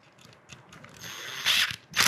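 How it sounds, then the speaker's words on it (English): Bit being swapped on a cordless power driver while mounting a Saffire LX-P LockClip housing with Phillips head screws: light ratcheting clicks and mechanical rattles, growing into two louder bursts near the end, close and with no talking. "I'm gonna change the bit out on my driver"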